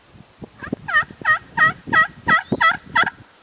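Seven evenly spaced, clear yelps from a slate turkey call played with a hickory striker, close and loud with a steady rhythm, after a few soft scratchy strokes at the start.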